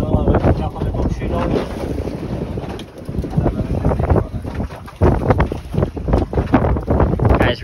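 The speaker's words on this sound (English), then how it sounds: "Just the sea rough and the breeze real strong." Strong wind and rough sea on a fishing boat out trolling, with loud continuous microphone buffeting over rushing water and pulsing engine-like rumble, close and unbroken.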